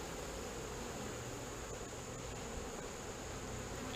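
Honey bees buzz inside an open hive during an inspection, making a dense, even hum that stays steady and fairly faint throughout, with no voices.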